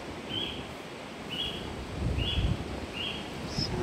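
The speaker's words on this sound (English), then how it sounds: "Sounds of birds, very tropical." Tropical birds at the water's edge of a mangrove give four or five short, evenly spaced high calls, moderately distant, over steady wind and rustling leaves.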